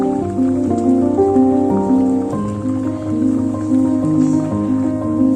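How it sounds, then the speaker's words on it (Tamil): Spicy egg gravy bubbles in a pan, a close, continuous wet popping and dripping texture under a steady tonal background. "இப்போ வந்து பபிள்ஸ் வர தொடங்கிடுச்சு"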